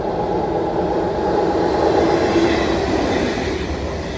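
Steady low rumble of a moving train from inside a carriage, with a continuous rolling drone and faint rattling, no talking.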